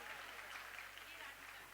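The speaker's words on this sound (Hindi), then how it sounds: "जोरदार तालियां बजाइए।" An audience applauds at a Jabalpur community event after a girl's Class 10 result of 98% in mathematics is announced; steady, continuous clapping fills the clip at a moderate distance, with no talk over it.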